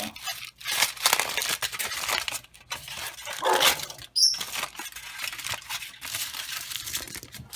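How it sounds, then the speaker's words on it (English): Paper crinkles and crunches in bursts with short pauses, close by, with a sharp rustle near the middle and no talking. "I want to crumple it up now."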